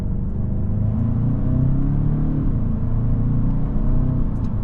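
Interior of a 2025 Genesis G70 2.5T sports sedan shifting with paddles in Sport Plus mode: a loud, steady engine drone and road rumble with subtle pitch changes as gears engage.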